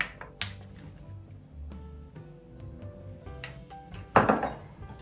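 Pumpkin muffin batter is stirred in a bowl, with a spoon scraping and clinking against the bowl's sides in irregular knocks, two sharper bangs standing out, and a faint steady background hum.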